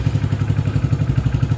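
A motorcycle engine idles close by in a steady, even chug of rapid pulses, running alone with no talk over it.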